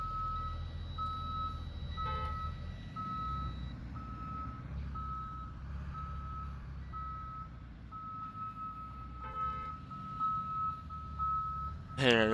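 A bus in a video game sounds its reversing beeper, a steady series of evenly spaced high beeps running throughout over a low engine rumble, with a person talking under it.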